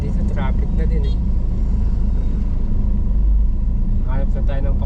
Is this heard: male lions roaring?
no